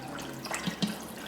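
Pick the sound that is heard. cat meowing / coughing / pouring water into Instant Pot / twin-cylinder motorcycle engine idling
pouring water into Instant Pot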